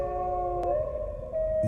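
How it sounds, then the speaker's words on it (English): Wolf dogs, half wolf and half husky, howl in the Metal Gear Solid Twin Snakes video game, long sustained wavering tones overlapping in a steady chorus with a brief sharp click partway through. "Wolf dogs. Half wolf, half husky."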